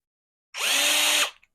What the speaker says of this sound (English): So I'm going to drill those out.